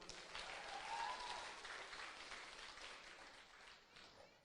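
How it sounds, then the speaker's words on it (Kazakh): Wedding guests applaud at a celebration, a faint, distant wash of clapping that swells and then slowly fades, with some crowd voices mixed underneath. "сендер шапалақ ұрмайсыңдар ма?"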